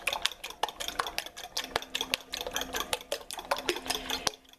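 A utensil mixing buttermilk batter in a bowl, with quick repeated clinks and scrapes against the sides in an uneven rhythm, close up and fairly loud, with no speech.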